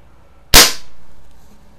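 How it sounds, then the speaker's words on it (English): A Daisy Powerline 1200 CO2 BB pistol fires a single sharp, loud shot up close, a crisp pop with a brief hissing tail fading over about a second, alone in a quiet setting. "let me throw another one in there and shoot that one down to the"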